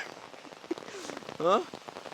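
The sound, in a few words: rain falling at an outdoor film shoot location in Wayanad, Kerala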